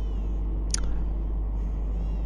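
A baby's cry from the video game Bloodborne, a brief thin wail rising over a steady low ambient drone, faint and set back in the mix.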